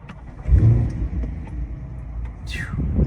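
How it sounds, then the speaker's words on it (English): A loud car engine rumbles up close, a heavy low growl with a brief rise in intensity, continuing steadily throughout. "I probably got to scream a little bit because the car is so daggone loud"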